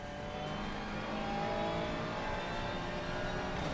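A race car in a racing video game screams at full throttle, a high, thin engine whine that climbs steadily and holds with a faint rough rumble beneath, moderately loud and uninterrupted.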